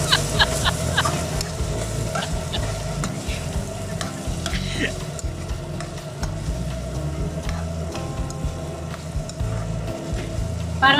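Potato and ground beef bubbling and sizzling steadily in a pan, close and continuous, with occasional light scrapes and clinks of stirring.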